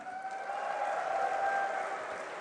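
A crowd at a DreamHack StarCraft 2 esports tournament applauding and cheering, a steady dense wash of clapping that fills the whole brief moment.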